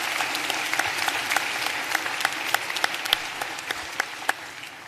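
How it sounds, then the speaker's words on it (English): Graduates at a commencement ceremony clap together in a steady, dense burst of applause that stays even throughout, with sharp individual claps standing out. "Go ahead, clap for yourself."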